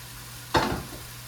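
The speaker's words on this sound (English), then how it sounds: "Then we're going to add our shrimp back in." Shrimp dropped back into a hot frying pan with salsa negra gives a single close burst of sizzle that fades quickly over about half a second.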